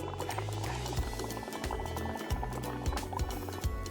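Breath blown through a straw into bubble solution makes continuous close bubbling and gurgling, with small pops and liquid churning throughout.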